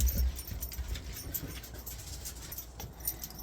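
Dogs panting outdoors before a walk, rapid breathy huffs close by with a few soft whimpers, steady through the short stretch with no talk.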